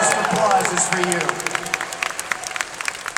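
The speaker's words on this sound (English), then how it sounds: "The biggest applause is for you." Crowd applause swelling, then thinning into scattered individual claps, with a voice briefly audible over the start.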